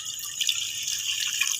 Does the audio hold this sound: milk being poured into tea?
yes